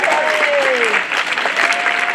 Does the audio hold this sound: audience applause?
yes